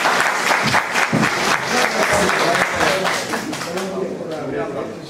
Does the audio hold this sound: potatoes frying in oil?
no